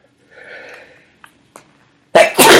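A single close, sudden sneeze bursts out near the end of an otherwise quiet indoor interview moment, preceded by faint small rustles and murmurs.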